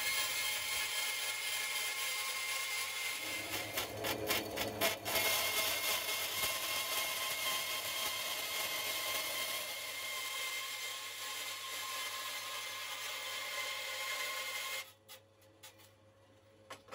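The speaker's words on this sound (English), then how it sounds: "I'm going to use my bandsaw to cut the copper sheet in half" A bandsaw slowly cuts a copper sheet in half for Kawasaki Z1 Super Six gaskets. The grinding whine runs loud and continuous for about fifteen seconds, then stops abruptly, leaving near silence with a few faint knocks.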